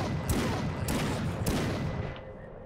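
Three booming gunshots in the indie horror video game The Ritual, evenly spaced over steady rumbling game noise, each a loud sharp burst trailing into the dense background.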